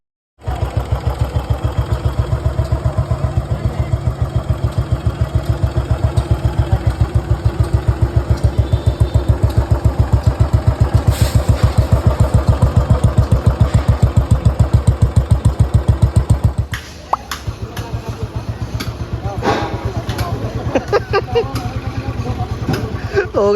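A Royal Enfield Bullet 350 with a freshly restored old AVL engine fires up and settles into a steady, loud thumping idle close by. The beat stays even for most of the stretch, then the tone shifts and quiets near the end.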